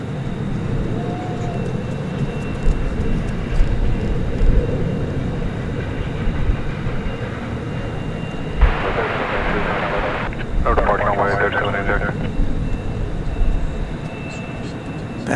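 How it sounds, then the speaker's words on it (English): An American Eagle Embraer 175 jet lines up for takeoff at DFW Airport at night, giving a low, continuous engine rumble in the distance while voices and bursts of radio chatter come and go over it. "an American Eagle, Ember 175, lining up to take off for Corpus Christi, Texas"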